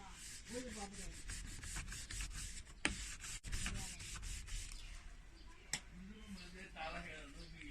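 A refrigerator door seal is wiped and scrubbed clean with repeated close rubbing strokes in an uneven rhythm, under intermittent talking.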